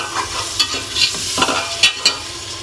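Three large chopped tomatoes fry in oil for a mutton curry, a crisp close sizzle broken by several sharp scrapes and clacks of a spoon stirring the pan, with no talking.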